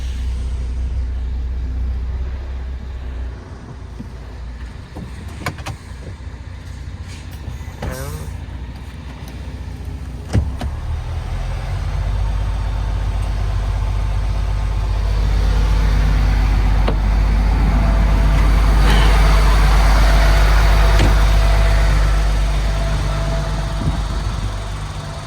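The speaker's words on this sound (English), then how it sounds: "Now it's automatic D and" MAN TGX 510 truck engine pulling away in automatic drive, a steady low diesel rumble that swells louder and fuller over the second half, heard from inside the cab with faint clunks.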